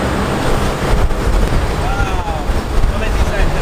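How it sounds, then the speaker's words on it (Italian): Wind roars and buffets a Rode VideoMicro microphone outdoors, a loud continuous rumble that swells and dips throughout. "Allora proviamo questo microfono con un po' di vento"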